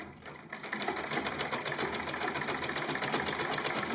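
A sewing machine runs steadily, stitching round a buba neckline in fabric with a 0.5 seam allowance, its rapid regular needle clatter continuous and close after a brief quiet start.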